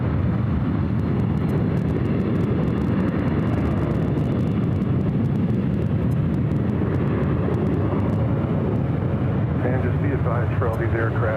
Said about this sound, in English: For all these aircraft approaching the runway here on the Orcas, there's 12 miles in trail on all the Orcas